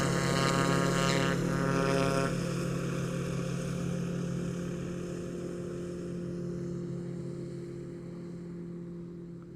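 A tow plane's propeller engine drone during a glider launch from a tarmac runway, strong low harmonics holding throughout, loud at first and easing slightly as it continues, with no talking.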